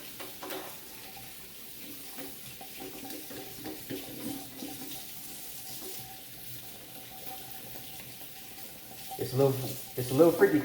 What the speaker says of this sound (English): I'm gonna run you some water,